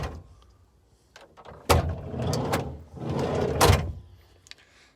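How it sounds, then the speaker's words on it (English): A Volkswagen T4 van's sliding door, its central locking fault just repaired, unlatching with a sharp click and then rolling open with a rumbling slide, recorded close up and moderately loud. "when I open the door, it does actually now open"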